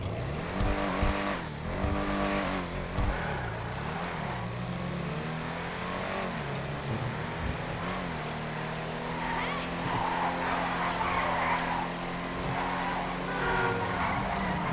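An off-road vehicle's engine in the video game GTA 5 Online roars continuously, rising and falling in pitch as it accelerates, with tires squealing at times, loud and close.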